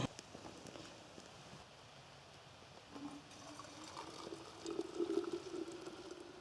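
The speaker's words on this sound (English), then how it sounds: "Oh yeah, our water is boiling away." Soft bubbling and crackling of water boiling in a pot over a campfire outdoors, gently rising in intensity toward the end, no talking.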